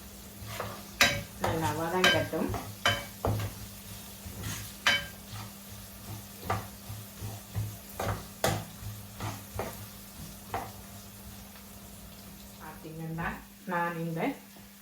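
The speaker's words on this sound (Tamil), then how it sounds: "கருவேப்பில் ஒரு காம்பு வச்சிருக்கிறேன் இப்போ அதையும் போட போகிறோம்" Curry leaf sprig dropped into hot oil for a wet jackfruit curry, crackling and sizzling steadily, with spoon stirring and clinks against the pan while someone talks over it.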